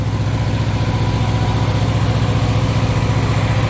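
Small diesel engine of a truck's TriPac APU idling close by, with a steady pulsing chug through its exhaust and muffler that stays loud and even throughout.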